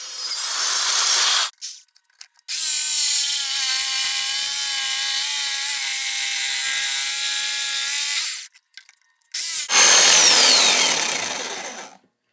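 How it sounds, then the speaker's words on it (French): A power drill and a jigsaw cut through a wooden board while building a Viking-style wooden chair, with loud sustained whining runs of the motor broken by short pauses, close up and with no talk. "vous allez avoir uniquement besoin d'une scie sauteuse et d'une perceuse"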